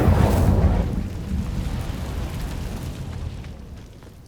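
A booming blast of flame from the Incendio fire spell in Hogwarts Legacy, loud and rumbling at first, then a long roaring, crackling tail that slowly dies away over several seconds.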